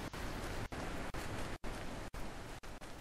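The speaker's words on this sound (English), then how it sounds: "get past these loud waterfalls." Waterfalls in The Witness video game give a steady, fairly quiet hiss of falling water, broken by a few brief dropouts.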